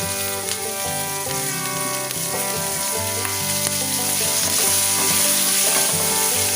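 Chillies fry with ginger and garlic in a pan over lowered heat, a loud, continuous close-up sizzle with sharp crackles and spits throughout.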